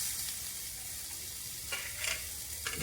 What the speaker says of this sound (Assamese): গতিকে অলপ ভাজি দিব লাগে।